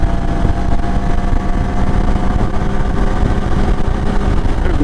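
A CFMoto Ibex 450 parallel-twin motorcycle engine drones steadily at high revs with strong wind rush, holding near full throttle toward redline on a highway commute. There is no talking.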